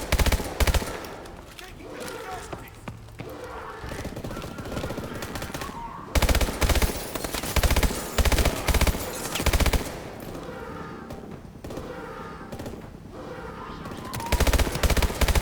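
SMG fire in Call of Duty: Advanced Warfare comes in loud, rapid bursts with short pauses between them, and other battle noise rattles underneath.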